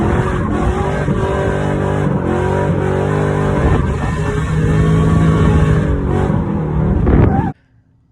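A car fitted with a Comp Cam Stage 2 HRT camshaft runs at a racing event, its loud, close engine droning steadily at high revs with rising and falling pitch before cutting off abruptly near the end.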